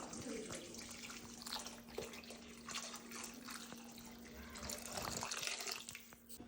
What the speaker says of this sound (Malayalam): നമ്മൾ ഇതിലേക്ക് ആവശ്യത്തിനുള്ള വെള്ളത്തിൽ കൂടുതൽ വെള്ളം ഒഴിക്കുക